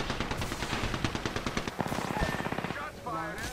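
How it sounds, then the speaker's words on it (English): Rapid automatic gunfire from Apex Legends on PS4 Pro rattles in dense bursts, with a quieter run of shots and voices mixed in near the end. "Shots fired, and they're hitting me."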